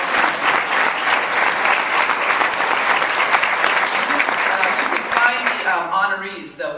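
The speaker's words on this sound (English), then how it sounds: "We'll send you our applause, but please stand up." An audience at an awards event applauds with loud, sustained clapping from a large crowd for several seconds, then the clapping thins out as a voice begins speaking near the end.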